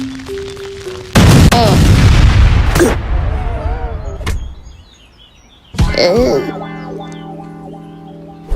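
A cannon fires in a stickman cartoon: a sudden loud boom with a rumbling tail, later another sharp blast, with short cartoon effects and quieter gaps in between.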